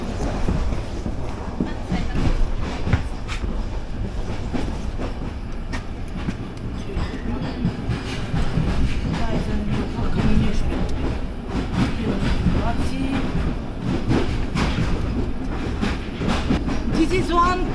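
An old Bulgarian passenger train runs on its rails, heard from inside with a loud, constant rumble and rhythmic clickety-clack of the wheels on the track throughout, and faint talk now and then beneath the noise.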